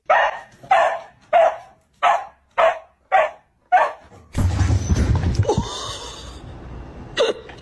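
A dog barks in a regular series of about seven sharp, near barks, then a burst of rustling and handling noise follows, with one more faint bark near the end.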